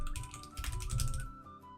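Quick typing on a computer keyboard, a short run of close, rapid key clicks without any talk.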